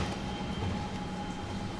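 A train rolls on a railway in Germany, heard from inside the carriage as a steady low rumble with a constant hum and no talk.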